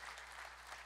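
Faint applause from a church congregation at a pastor's 70th birthday and ministry anniversary celebration, a brief steady patter of clapping heard at a distance.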